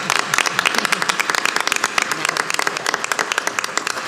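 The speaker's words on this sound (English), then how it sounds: "if we would give him a round of applause" A board meeting audience gives steady, dense applause, with many hands clapping continuously for about four seconds at moderate loudness.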